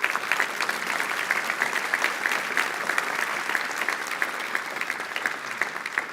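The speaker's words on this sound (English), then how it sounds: "I'm going to ask you to give them a round of applause." A church congregation at an Episcopal parish's annual meeting claps for its worship staff. The applause is sustained, brisk and fairly even, with many hands close together, and it carries on for about six seconds with almost no voices.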